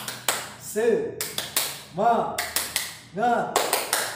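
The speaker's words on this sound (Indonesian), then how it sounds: "perhatikan dulu, tepuk semangat" A teacher leads a rhythmic 'tepuk semangat' spirit-clapping routine in a classroom: crisp, close hand claps in a repeating pattern of quick bursts, with short voiced chant calls between the clap groups.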